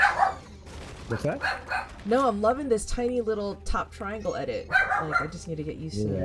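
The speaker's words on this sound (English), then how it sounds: "Sorry about the dog, guys." A household dog barks and yips repeatedly nearby, its high, rising calls mixed under continuous close talk.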